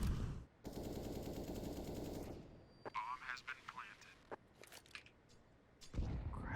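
Gunfire in Counter-Strike: Global Offensive during a GamerLegion versus Entropiq esports match, a sustained automatic burst followed by scattered sharp single shots, with a caster talking over it.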